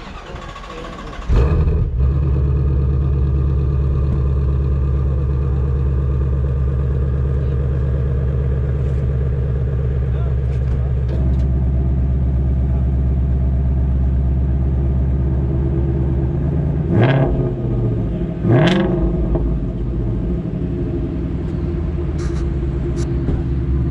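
A 2018 Ford Mustang GT350 engine cranks and fires up, then settles into a loud, deep idle, with two sharp revs blipping near the end.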